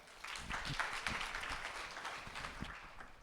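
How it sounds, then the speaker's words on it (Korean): An audience at a public funding programme briefing applauds to welcome a speaker to the stage, a faint, steady patter of many hands clapping for about three seconds. "차선주 팀장님을 박수로 맞이하겠습니다"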